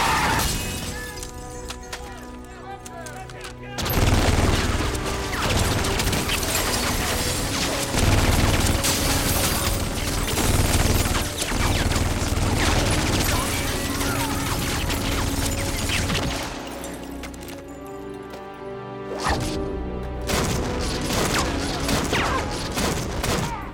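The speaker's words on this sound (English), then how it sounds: "Gunfire, huh?" Heavy gunfire in a movie gunfight from the vampire-hunter film Blade, with sustained crackling volleys, glass shattering and crashes, loud and dense, broken by brief lulls.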